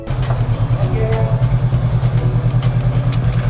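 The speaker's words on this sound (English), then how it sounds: "Motorcycle." A motorcycle engine putters steadily up close with a pulsing, throbbing rhythm and rattling clatter, holding constant throughout.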